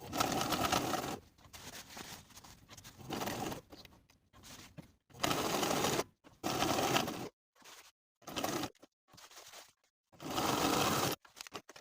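A sewing machine edge stitches a fully lined vest in several short, loud whirring bursts, separated by silent pauses for pivoting and repositioning the fabric.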